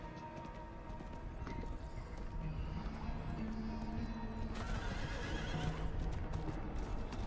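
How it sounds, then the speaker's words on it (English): A horse in a video game clip-clops along at a quick gait, with a whinny rising over the hoofbeats and a low game backdrop underneath. "Oh yeah, horse."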